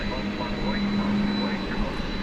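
A Boeing 767 jet roaring during a night takeoff at DFW Airport, a loud, continuous broad engine rumble filling the short stretch without breaks.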